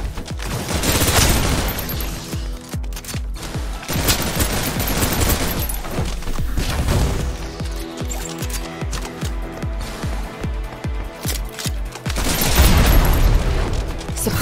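Sustained gunfire and booming explosions from the shooter game Snowbreak: Containment Zone, with dense bursts of shots running throughout and heavier blasts near the start and end.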